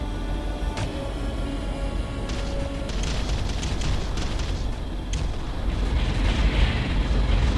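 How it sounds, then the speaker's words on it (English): Artillery bombardment in the strategy game Ground Control: continuous heavy rumbling barrage with repeated booms and bursts layered over a dense low roar, loud and sustained. "Area targeted for bombardment."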